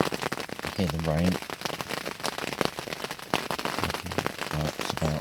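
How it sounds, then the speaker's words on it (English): Rain patters and crackles continuously on a hard surface close by at a carp fishing camp, with a few brief voiced sounds breaking in. "Hear the rain."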